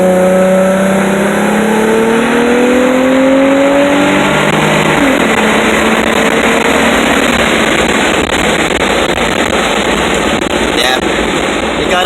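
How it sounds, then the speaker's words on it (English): An Infiniti G35 Coupe with Megan Racing test pipes and a stock muffler accelerates hard. A loud, continuous engine roar climbs through the revs, heard up close from inside the car. "And now the acceleration test. Let's see how it sounds."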